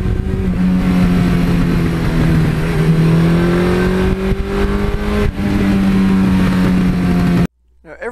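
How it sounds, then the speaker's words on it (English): A 1982 Suzuki GS1100E motorcycle engine runs loud and close, its tone rising and falling through revs before cutting off sharply near the end. "I love the sound of that engine."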